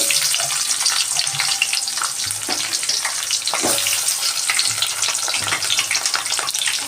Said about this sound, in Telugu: ఇప్పుడు ఆనియన్స్ యాడ్ చేద్దాం.